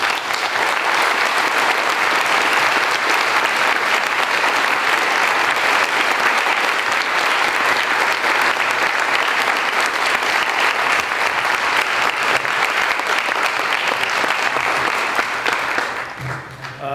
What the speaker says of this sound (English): I think we should give Bill another round of applause.